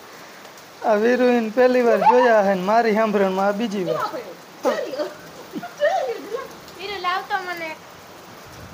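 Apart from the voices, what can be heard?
rain with hailstones falling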